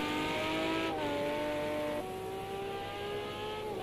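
A race car laps the Zolder circuit with a loud, steady engine drone that shifts pitch through gear changes, held up close throughout.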